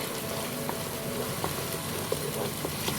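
Onions frying in a pan for gola kebab gravy give a steady, soft sizzle with faint crackles and a few light clicks, heard alone without voices.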